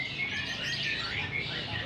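Bright, rapid chirps and trills of a long-tailed shrike at a songbird contest in Nganjuk ring out continuously over a busy crowd murmur, with several birds calling at once.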